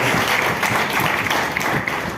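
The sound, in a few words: congregation applause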